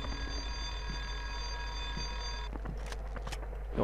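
An electronic alarm in the video game Cold Winter rings as a steady, continuous tone over a low hum, then stops, leaving soft clicks and shuffling.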